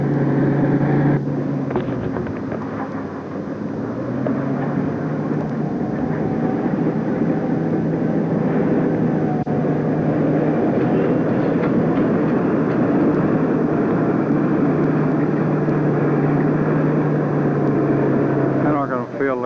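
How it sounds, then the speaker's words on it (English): A tractor working hard at a refuse disposal site, its engine a steady heavy drone that runs loud and unbroken throughout, with someone talking over it. "Tough work on our tractor."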